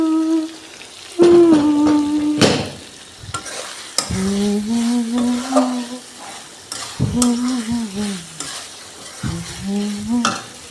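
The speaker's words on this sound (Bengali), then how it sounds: "এখন ঝোল দিয়ে দিই তরকারিতে" Broth is poured into a curry frying in a pan, giving a steady sizzle and some stirring scrapes, while a woman hums and sings in short phrases over the cooking.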